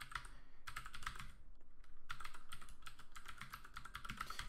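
Quiet, rapid typing on a computer keyboard, bursts of close key clicks with a brief pause near the middle, no voices.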